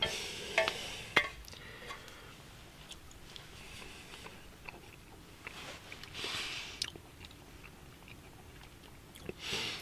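Someone alone outdoors in the Elk Range chews cooked meat fat and skin, with close, moist, irregular chewing and biting sounds over a low background hiss, a few sharper clicks, and no talking.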